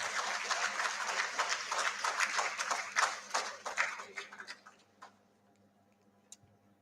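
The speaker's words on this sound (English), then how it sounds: "Can we have a big round of applause, please?" Audience applause at an academic conference, a dense burst of many hands clapping that fades away over several seconds into near silence, fairly distant in a hall.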